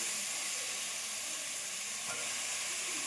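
Slit eggplant sizzling in hot oil in a pan for a spicy Tamil kara kuzhambu, a steady broadband hiss holding evenly for the whole stretch with no voices.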